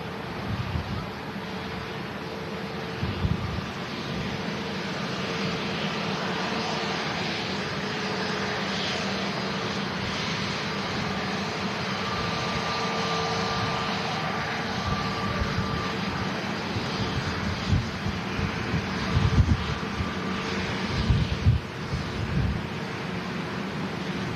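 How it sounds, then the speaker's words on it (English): An Airbus A380 roars at Manchester Airport, a loud, steady jet engine rumble holding throughout with slight swells toward the end. "Yeah, second A380."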